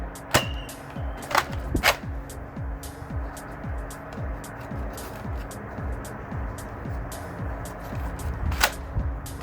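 Sharp snaps of a Nerf Mega Doublebreach blaster firing foam darts, with several distinct cracks spaced irregularly over quiet background noise.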